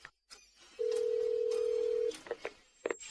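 A telephone tone sounds once in a steady, unbroken stretch of about a second, followed by brief clicks and faint electronic blips, fairly quiet and alone.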